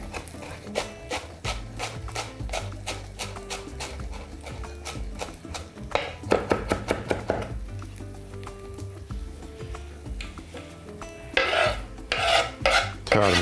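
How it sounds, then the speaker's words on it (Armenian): Rapid, rhythmic knife chops through fresh herbs on a cutting board for a bulgur and vegetable eggplant stuffing, steady close tapping with a brief pause midway before resuming, no talking. "Մանր կտրատում ենք եւ լցնում խճողակի վրա։"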